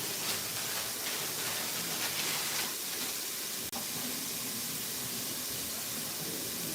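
Red onions sizzling in a hot pan with red peppers, a steady broad hiss of frying running throughout, fairly loud and even, with one brief sharp click partway through.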